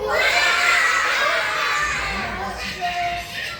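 Third-grade elementary schoolchildren in a classroom imitate monkey calls together, a loud crowded chorus of high-pitched shrieks and hoots from many young voices at once.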